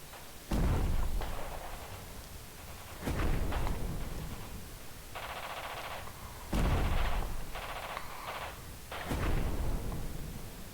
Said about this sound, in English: don't move until the barrage lifts up